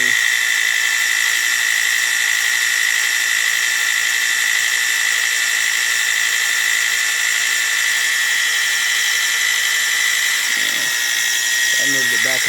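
A Grizzly G0704 milling machine fitted with faster metal gears runs at high speed, giving a loud, steady whine that holds without a break until a brief low rumble near the end.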